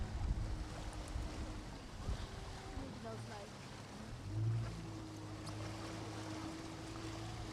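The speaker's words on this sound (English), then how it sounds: "You can hear the tripper boat going crazy there." A tripper boat's engine drones steadily on open water at the start of a gig rowing race off the Isles of Scilly, a low continuous hum under wind buffeting and lapping waves, with a brief louder surge midway.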